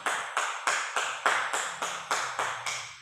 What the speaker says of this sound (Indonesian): Berikan aplaus kepada kelompok Alexi